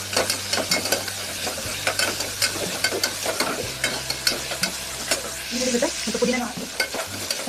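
Onion and mint leaves frying in a pan, a soft steady sizzle broken by frequent quick scrapes of a spatula stirring at close range, with a brief clatter near the end.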